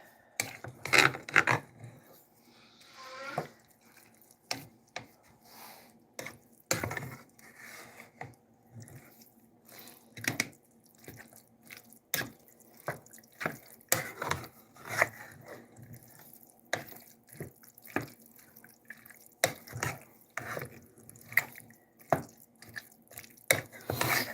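A spoon works through an unstuffed pepper skillet mix in a pan, making repeated uneven scrapes, clacks and wet squelches in irregular bursts at close range, with no talking.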